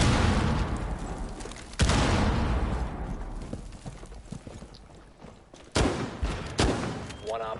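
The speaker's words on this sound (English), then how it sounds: "Get back, grenade." Sharp blasts punctuate a Rainbow Six Siege round, one sudden bang early and two more near the end, with scattered fainter shots and rattles in between and a brief voice late.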